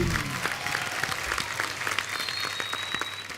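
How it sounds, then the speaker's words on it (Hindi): Studio audience on a Hindi TV comedy show breaking into applause, a sustained even clapping crowd with a faint whistle-like tone partway through. "जोरदार तालियां गुरु और संजना के लिए।"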